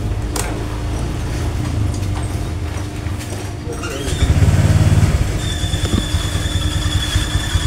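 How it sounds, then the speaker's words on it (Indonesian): A Honda Vario 150 scooter engine runs at idle with a thin high-pitched squeal, likely from the CVT, rising over a mechanical rumble midway as the engine note grows louder, heard close up. "kita langsung saja cek seperti apa sih suara tikus di motor ini"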